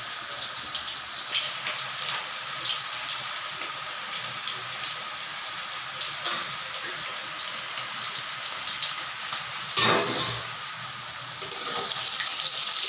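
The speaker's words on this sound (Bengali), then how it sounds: "তো মাছগুলো ভাজা হচ্ছে" Pangas fish pieces frying in a pan for a fish curry give a steady, close sizzling hiss that runs throughout, swelling briefly near the end, with no talking.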